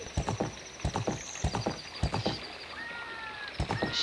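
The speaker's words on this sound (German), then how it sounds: "Ich reite gerade irgendwie ein bisschen zickzack" A horse gallops with quick rhythmic hoof clip-clops in The Legend of Zelda: Ocarina of Time, zigzagging as it is ridden, with a faint whinny-like tone later and no talk.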